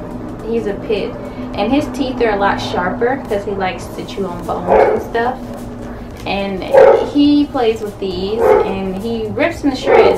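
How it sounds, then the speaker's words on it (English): A pit bull barks from upstairs, sharp repeated barks and yips coming in bursts, somewhat distant, beneath a close voice talking steadily. "He's barking because I'm talking right now and I'm downstairs"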